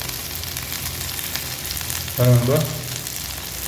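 Fish frying slowly in a pan, a steady close sizzle and crackle of hot oil throughout, with a brief spoken word partway through.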